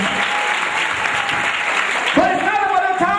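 Loud applause breaks out at a prayer meeting, a thick crowd clap that carries on steadily while a voice speaks over the last second or so.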